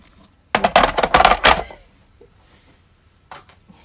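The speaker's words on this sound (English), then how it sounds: "So I'm going to grab the Big Shot and we'll cut this out." A Big Shot die-cutting machine presses a stitched rectangle die, making a short loud burst of rolling, clattering crank noise lasting about a second, followed by a quiet gap and a faint knock.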